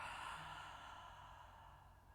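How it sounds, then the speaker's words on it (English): A deep breath out through the mouth, a soft, steady airy exhale heard close up that gently tapers over about two seconds. "Deep breath in. Let it go."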